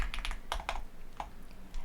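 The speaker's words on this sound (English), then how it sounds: "I'm going to shut up whilst I type because I know a lot of people really like the sound of my keyboard." Someone types steadily on a computer keyboard, producing a run of close, crisp key clicks in uneven bursts with short pauses between them.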